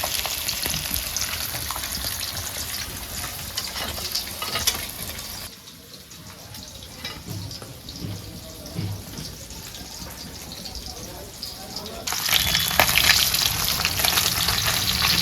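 Tilapia sizzles loudly in hot oil in a pan over a wood-fired stove, with a steady crackle that stays close and continuous and is stirred now and then, and no voices over it.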